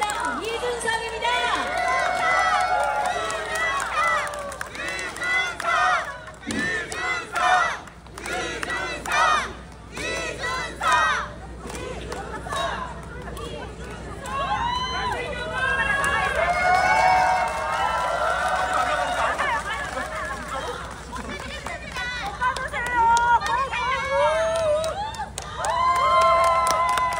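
A political rally crowd in Korea greets a presidential candidate taking the stage with loud, sustained cheering, shouting and applause, rising and falling in waves with chanting voices over nearly half a minute.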